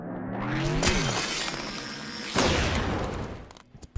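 A designed ice spell sound effect for a JRPG: a loud crystalline shatter and explosion, with a first icy burst, then a second bright crash midway, trailing into glassy debris and a final sharp hit.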